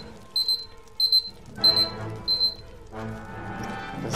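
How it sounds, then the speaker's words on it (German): Four short bursts of a timer alarm ringing in an Xbox game, each a quick electronic ring followed by a pause, loud and alone, then two louder broadband crashes of game action follow. "Das ist eigentlich der Timer"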